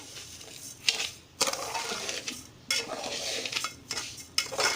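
A coconut mixture with cardamom powder is stirred in a pot, with repeated rhythmic scraping and gritty rubbing strokes against the metal, close and fairly loud, with no voices.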